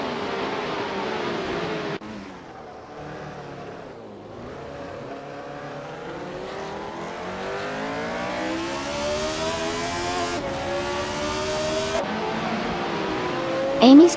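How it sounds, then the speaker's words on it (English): A 1976 McLaren M26 race car engine in a racing video game revs and climbs in pitch through several gear shifts, its tone cutting and resuming, with a brief sharp squeal at the end. "Amy's car is a 1976 McLaren M26, currently in 20th place."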